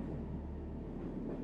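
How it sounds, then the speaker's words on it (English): A Paris metro train running from Place d'Italie toward Bobigny gives a steady, muffled low rumble, the cars rolling along continuously at a soft, even level with no voices. "the train cars rumble along"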